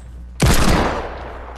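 A single loud, close gunshot from a Deagle pistol in Fortnite cracks after a quiet moment, then decays in a short echoing tail.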